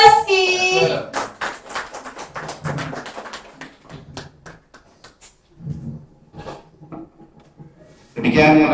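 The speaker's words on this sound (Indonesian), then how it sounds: "Tepuk tangan untuk Ibu Masuda" Scattered hand claps from a small audience at a school teachers' dissemination session follow a performance, sparse and uneven, with people talking before and after.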